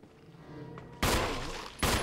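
Two loud gunshots in Resident Evil Remake, spaced under a second apart, each with a sharp crack and lingering reverberant tail.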